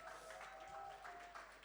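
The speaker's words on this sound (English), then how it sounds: "a round of applause for him" Audience applause greets a panelist at a Bitcoin conference panel in Tanzania, a steady, fairly faint wash of clapping that runs through the whole moment.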